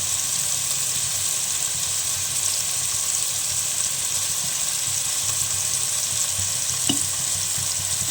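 Prawn heads frying in a pan give a steady, even sizzle that runs unbroken from start to finish at close range, with no voices over it.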